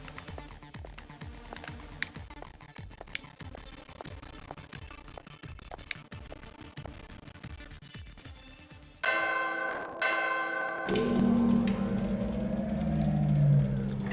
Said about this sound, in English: So the door opens if you ring the bell?